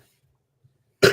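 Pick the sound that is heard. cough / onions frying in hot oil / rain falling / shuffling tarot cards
cough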